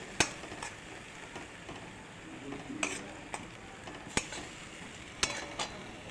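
Curry is stirred and sautéed in a pan, a soft background sizzle broken by sharp clinks and scrapes of a utensil against the pan at irregular intervals, fairly quiet, with no speech.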